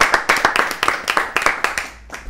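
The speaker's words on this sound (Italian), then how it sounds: "Applauso" A TV studio audience on the Italian program Centrocampo claps in a quick burst of distinct, closely spaced hand claps that thin out and fade toward the end.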